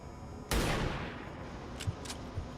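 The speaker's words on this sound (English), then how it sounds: "we'll start this off by firing at the trooper with our sniper" A single sharp, loud sniper rifle shot fired at a trooper in the video game XCOM 2 rings out with a long decaying tail, followed by a few faint brief clicks.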